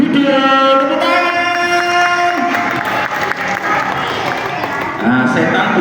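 At a children's Islamic storytelling event, an audience breaks into sustained clapping that swells after a voice is heard at the start and continues as a dense wash of applause.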